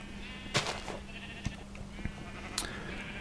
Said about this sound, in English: we are cutting so many sheeps, trimming their furs, getting some nice wool.